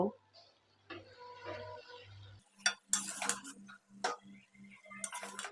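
A spoon stirs and turns mixed vegetables and tender spinach in a cooking pot. It makes quiet, rhythmic scraping and clinking, and a voice talks over the first half.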